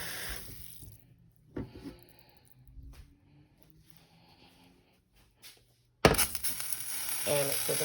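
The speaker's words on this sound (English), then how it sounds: "I just add a little water." Water is poured into a pan of drained cooked meat for homemade country-style spaghetti, starting as a faint trickle and becoming a loud, steady splashing pour in the last couple of seconds.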